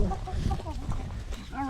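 Chickens cluck and chatter close by on a hike near a turkey pen, several birds clucking in a busy mix while a person talks over them.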